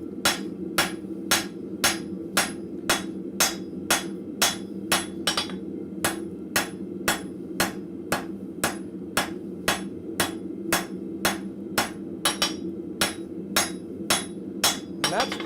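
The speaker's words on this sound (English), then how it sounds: "I'm coming down on the anvil like this. And I'm just hitting the top of that hinge plate." A blacksmith strikes a hinge plate on an anvil at a forge, with about two dozen sharp, ringing hammer blows landing in a steady, even rhythm over a low background hum.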